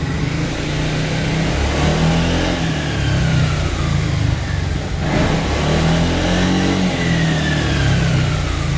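A Yamaha XMAX scooter engine runs loud and steady, its revs rising and falling in a few repeated swells over a constant rumble.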